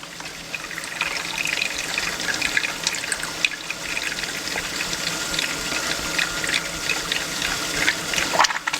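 Water trickles and gurgles steadily into a water filter housing as it fills, a continuous bubbling flow with small splashes, close and moderately loud.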